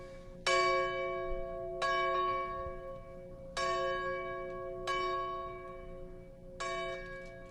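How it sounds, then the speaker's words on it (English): A church bell in Van Lear, Kentucky tolls five times at 10 a.m. at a slow, even pace, each strike ringing out clearly and fading with a long, humming resonance. "This is ringing the bells at 10 a.m."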